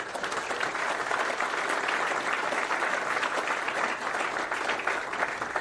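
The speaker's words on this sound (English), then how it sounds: "So let's give them a round of applause" A large audience at a leadership talk claps steadily and evenly, a broad sustained wash of applause with no voices over it.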